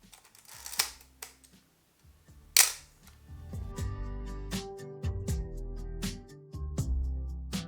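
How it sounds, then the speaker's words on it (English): Shutter of a metal-bodied 35mm film camera firing several times, sharp mechanical clicks near and fairly loud, with handling rattles between releases and no talk. "it's quite loud, so you cannot really be subtle when you're taking photos with this camera"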